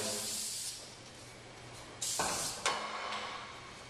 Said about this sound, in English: go ahead and lubricate your springs